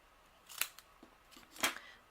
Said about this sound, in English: These no-stick scissors from Close to My Heart are amazing